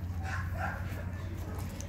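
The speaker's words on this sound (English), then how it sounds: "They're puppies." Eight-week-old American Bully puppies give soft barks and whimpering yips, close by, over a low steady background hum.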